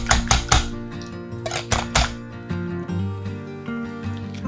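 A utensil knocks and scrapes against a bowl as sweetener is stirred into a coconut dessert, a few sharp close clatters up front easing into softer mixing with a low hum underneath.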